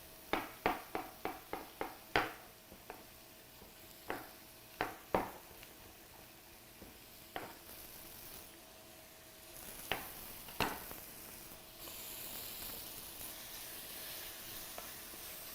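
Scallops and mushrooms cooking down in a pan until the liquid is gone, with a soft, steady sizzle broken by sharp ticks and spatters from near the pan.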